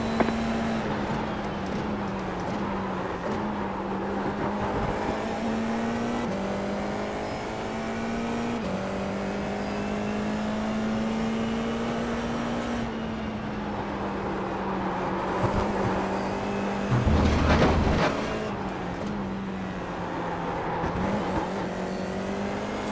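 Race car engine in a Formula 4 racing video game, held at full throttle as a steady, high, close engine drone with brief gear-shift dips and a louder burst near the end, with no voices.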